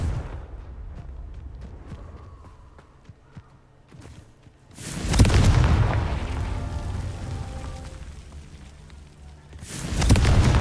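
Confringo blasting spell in the Hogwarts Legacy video game: quiet rumbling with small knocks, then a loud booming explosion that rolls on for several seconds, and a second blast starting at the end.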